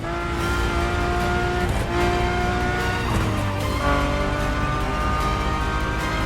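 A high-revving Ferrari supercar engine in the video game The Crew Motorfest howls through gear changes, pitch climbing and dropping sharply, loud and close with a synthetic, game-like tone.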